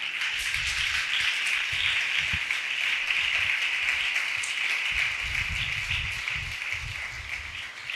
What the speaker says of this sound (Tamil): நல்ல கைத்தட்டுங்க, நல்ல கைத்தட்டுங்க.